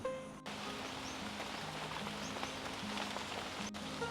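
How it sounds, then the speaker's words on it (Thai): Soft, steady rain patters on surfaces at a campsite in a quiet, continuous hiss, with a faint low hum underneath. "ฝนตกลงแล้วนะครับทุกคนฝนตกแดดออกนะครับ"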